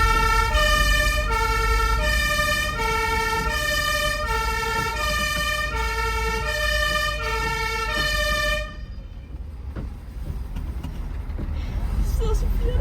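A fire engine's two-tone siren, used by a Bornholm youth fire brigade, wails loud and steady in a repeating high-low pattern for about eight seconds, then cuts off, leaving engine and road rumble.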